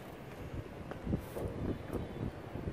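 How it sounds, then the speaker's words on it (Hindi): Strong wind outdoors, strong enough to shift a brick, blows as a steady low rumbling roar with gusty buffeting against the microphone, loud and continuous throughout. "इतनी तेज हवा है"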